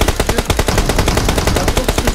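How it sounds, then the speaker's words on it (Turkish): Rapid machine gun fire in a video game, a loud, close, steady burst of evenly spaced shots rattling without pause. "İyi tarıyor. Bizi mi tarıyor?"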